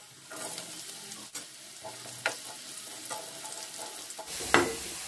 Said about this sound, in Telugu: ఆయిల్ వేడెక్కినాక కాకరకాయ ముక్కలను వేసి వేయించుకుందాం.